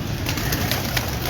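Pigeons bred on a Lahore rooftop coo steadily in a soft, continuous throaty murmur, close by, with a high background whine and no talk.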